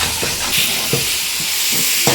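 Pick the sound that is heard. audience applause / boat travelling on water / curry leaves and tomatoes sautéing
curry leaves and tomatoes sautéing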